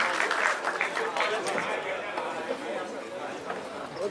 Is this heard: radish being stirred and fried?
no